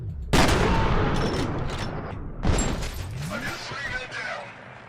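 Loud shotgun blasts in the first-person shooter F.E.A.R., two heavy booming shots a couple of seconds apart, each with a long decaying tail, over game ambience with speech faint underneath.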